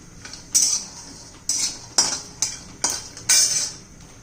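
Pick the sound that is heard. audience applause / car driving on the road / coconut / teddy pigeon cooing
coconut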